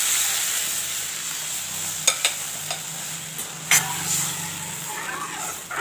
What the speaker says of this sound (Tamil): இந்த அல்வா பார்த்திங்கன்னா கைவிடாத கிளறினே இருக்கணும்.